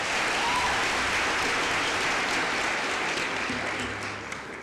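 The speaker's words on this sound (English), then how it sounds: "Please give them a very warm round of applause." An audience at a university graduation ceremony gives the Fort Hare Choir warm, steady applause, thick and sustained before tapering off slightly at the end.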